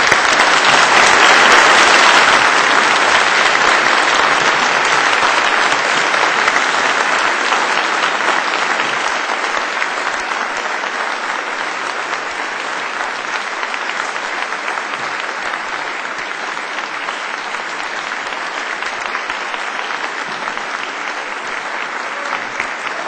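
Sustained, loud applause from a large audience at an Army ROTC commissioning ceremony at Syracuse University, continuous dense clapping that fades slightly over time with no voices on top.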